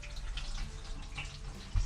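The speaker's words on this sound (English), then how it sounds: "See the water going in the tank" Water runs steadily into a narrowboat's water tank, a continuous low rushing and splashing heard up close with no talk over it.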